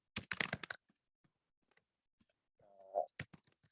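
Keystrokes on a computer keyboard while a C++ hello world program is typed, a quick burst of close clicks, then sparse isolated taps with a brief low hum in between.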